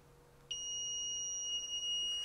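A buzzer wired to an Arduino, triggered by the power button of an infrared remote, switches on sharply and holds a steady, loud electronic tone that continues unbroken to the end.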